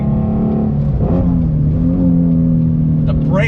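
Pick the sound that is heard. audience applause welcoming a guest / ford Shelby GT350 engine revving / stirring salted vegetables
ford Shelby GT350 engine revving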